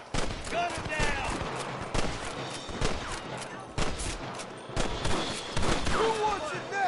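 Rapid volleys of gunfire in Red Dead Redemption, with sharp repeated shots fired in irregular bursts over several seconds, some near and loud, and game voices shouting between shots.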